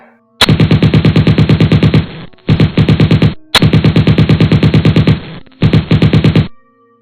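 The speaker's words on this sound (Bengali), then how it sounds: "সে এক ঝাঁক গুলি চালিয়ে দিল" Rapid automatic submachine gun fire in four loud bursts, each a fast even rattle of shots, with short gaps between them.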